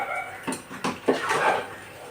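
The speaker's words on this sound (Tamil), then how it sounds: "மசாலா வாசம் போகிற வரைக்கும் நம்ம கிண்டிவிடணும்." Chicken biryani masala stirred in a pot, with a few scraping and clanking spoon strokes against the metal over a soft background hiss, close, with no talking.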